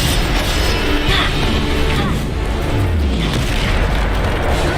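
Booming spell blasts from a Hogwarts Legacy duel, a dense, continuous wall of low rumbling explosions and magical impacts with no clear gaps, loud and close throughout.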